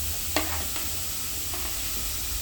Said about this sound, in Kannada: ಈಗ ಬೆಂಡೆಕಾಯಿ ಹಾಕ್ತೀನಿ